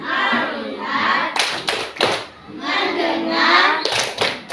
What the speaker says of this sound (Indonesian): Ya, tepuk fokus.